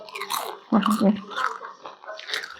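Someone bites and chews an afternoon snack dipped in sauce, giving close, wet crunching and squishy mouth sounds in quick succession, mixed with bits of speech.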